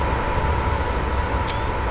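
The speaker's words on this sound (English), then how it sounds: "Beautiful train on the bridge." A Class 87 electric train crosses a bridge over Shap on the West Coast Main Line, giving a steady, loud rolling rumble that holds evenly throughout with no voices.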